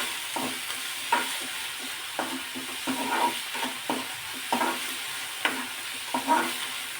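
Radish leaf greens cook in a pan, with a soft sizzle under repeated scraping strokes of a spatula stirring at an irregular rhythm, close and moderately loud.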